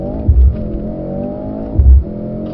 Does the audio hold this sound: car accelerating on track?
yes